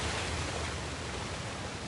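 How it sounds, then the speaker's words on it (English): A video-game waterfall rushes in a steady, dense broadband roar, continuous and fairly loud with no change in level and no voices over it. "Another waterfall."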